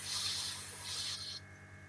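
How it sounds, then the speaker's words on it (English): Airbrush spraying spirit stain onto a turned wooden egg cup, a soft continuous hiss in two short bursts with a brief pause between, close and fairly quiet, then cutting off. "I use an airbrush to spray on spirit stains."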